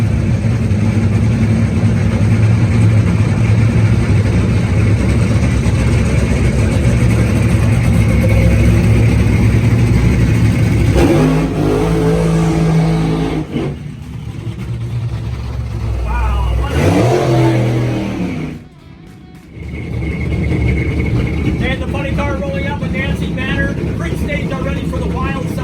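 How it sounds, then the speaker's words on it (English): Front-engine nitro dragster of old style, the Texas car, revs loudly at night with a deep, roaring engine, swelling and cutting out in bursts under a track announcer's talk and crowd noise. "Front engine dragster, old style, Nancy Manor, new style NItro from Texas."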